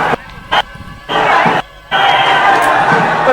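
Large crowd of Maratha protesters packed into CSMT railway station, a loud roaring din of many voices that cuts in and out in bursts before settling into a sustained, dense wash of shouting and murmur.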